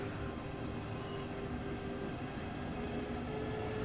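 Electric DB BR 146 locomotive accelerating in Train Sim World 2 on the Rhein-Ruhr Osten line, a steady rolling rumble with faint wheel squeal and high tonal whine, continuous and moderately loud.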